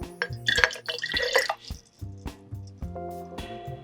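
Lemon juice poured into a glass mason jar, heard as close wet splashing and trickling in short bursts, with faint drips and glassy clinks and no talking.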